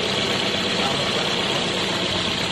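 A Toyota Vios engine idles steadily, checked for misfiring after broken injector wires; a continuous, fairly loud broadband rumble holds throughout with no obvious stumbles.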